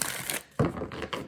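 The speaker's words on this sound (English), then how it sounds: "So we're just going to shuffle the cards a million times" A favourite deck of playing cards shuffled by hand, giving two bursts of brisk riffling clicks a moment apart, close and fairly loud with no talking.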